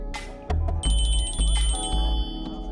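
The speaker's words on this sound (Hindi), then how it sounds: "बज रहा है आपका फोन।" A mobile phone rings in a restaurant or coffee shop with a repeating electronic ringtone over a low, steady background hum, fairly close and moderately loud, with no speech over it.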